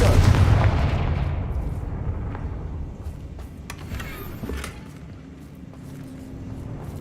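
In the Hogwarts Legacy video game, a Confringo spell blast lands as a loud boom at the start, then a long rumbling decay with scattered crackles and pops fading into the background.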